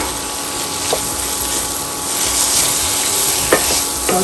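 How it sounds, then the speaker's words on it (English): Onion sautéing in a pan with dried shrimp and a little water, giving a steady low sizzle with a few faint stirring clicks throughout. "And now I will add onion, saute"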